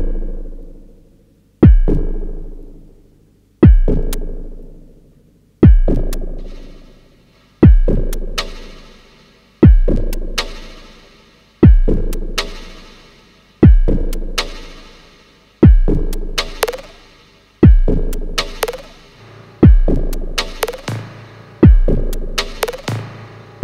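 Deep electronic drum hits from an Analogue Solutions Concussor MT9 eurorack module repeat at a steady pace, each a sharp thump with a bright ringing click that decays away, sounding alone and loud.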